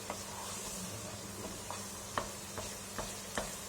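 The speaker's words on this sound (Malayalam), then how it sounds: "ഞാനിങ്ങനെ കുറച്ച് സമയം കൂടി ഇളക്കിക്കൊണ്ടിരിക്കട്ടെ" Thick jackfruit halwa is stirred in a pan, with a faint steady background hiss and a few soft scraping clicks of the spoon spaced irregularly.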